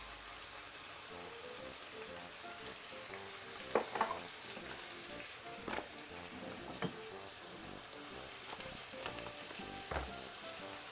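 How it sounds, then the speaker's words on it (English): Salt fish with vegetables, paprika and coarse pepper sizzles steadily in a pan, a continuous soft frying hiss broken by occasional stirring clinks and scrapes, close and alone without talk. "so basically I'm gonna be frying up this for roughly about 4 to 5 minutes."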